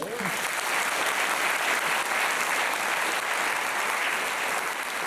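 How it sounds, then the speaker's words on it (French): Steady, dense applause from a large theatre audience at a comedy show, continuous and even throughout without pauses. "demander à mes amis Jean-Claude et Patrick, les régisseurs du théâtre, que vous pouvez applaudir d'ailleurs"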